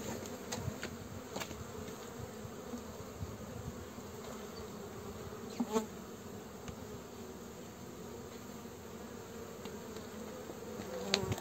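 Honey bees buzzing around an opened Langstroth hive frame during a transfer to a ten-frame hive, a steady dense drone with a few louder passes close by, no talking.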